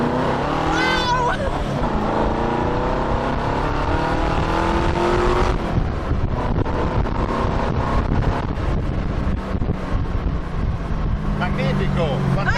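Modified Cobra sports car engine running loud and steady while driving, with strong wind rush throughout and voices talking over it.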